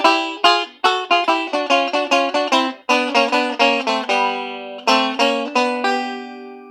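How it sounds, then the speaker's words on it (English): Banjo playing a generic Reno-style kickoff, a quick run of bright picked notes in a steady rhythm with a short pause midway, close and clear, with no voices. "I want to show you kind of a generic Reno style kickoff that you can use for a lot of different tunes."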